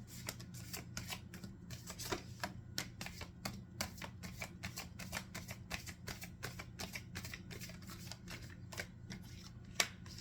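A deck of oracle cards being shuffled by hand, a fast run of crisp, papery riffles and flicks that keeps going in a steady rhythm, fairly faint and close with no voices.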